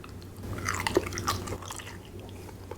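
Crunchy roast turkey skin, seasoned with butter under the skin and topped with gravy, is chewed close up in a few soft wet crunches and bites, fairly quiet with no talking.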